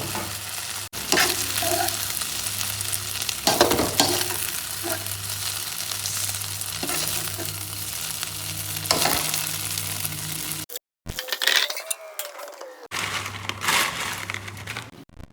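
Eggs fry for fried rice in a pan, a loud close sizzle with scraping and stirring of a spatula, a low steady hum underneath, then a brief cut before the frying resumes.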